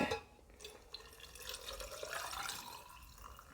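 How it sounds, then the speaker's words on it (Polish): Salt brine from a pot is poured into a jar of tomatoes, a faint, continuous trickling and splashing of liquid with a rising, filling quality, heard close and alone. "Teraz lejemy to, co było w garnku"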